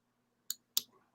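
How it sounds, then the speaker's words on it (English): A computer mouse clicking twice, a sharp close click followed a moment later by a second, louder one, in an otherwise quiet room. "I'm going to take my mouse and I'm going to click"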